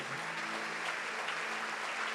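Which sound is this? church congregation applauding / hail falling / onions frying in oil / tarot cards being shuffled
church congregation applauding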